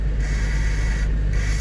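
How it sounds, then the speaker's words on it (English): Electric door mirrors on a 1995 Volkswagen Corrado VR6 whir with a steady motor hum, close by over a low constant drone, with brief pauses in the whine. "Electric mirrors. See if they're working."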